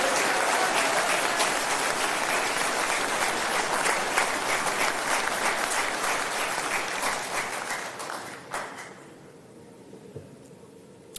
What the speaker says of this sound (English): please, a round of applause for all their hard work